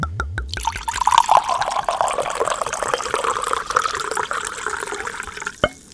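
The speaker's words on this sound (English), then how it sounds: "Time for the pour." White wine pouring into a glass, a steady close liquid trickle and gurgle lasting several seconds with a few clicks at the start and a faint clink near the end.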